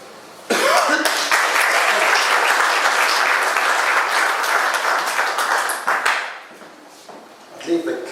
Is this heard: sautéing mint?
no